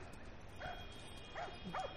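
Dogs barking in The Last of Us Remastered, three short yips and barks in quick succession, fairly close over a quiet low game ambience.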